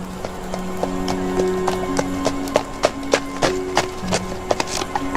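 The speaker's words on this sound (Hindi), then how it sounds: "धीरे धीरे घोड़ा गाड़ी को चर्च की ओर ले जाने लगा" Hooves of a horse-drawn carriage clip-clop at a slow, steady walking pace approaching a church, sharp irregular taps over a constant low rumble, with no voices.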